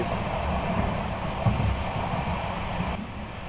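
The Amrit Bharat Express from Varanasi to Pune runs at speed near Prayagraj, a steady, loud low rumble and rattle of rolling carriages with a brief clunk midway.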